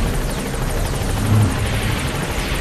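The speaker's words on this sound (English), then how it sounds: "Wait for the helicopters to, or the helicopter to actually, like, drop and come in." Helicopter arriving in Metal Gear Solid 5, a loud steady rotor thrum with rhythmic blade chop that swells slightly midway, heard alone without talk.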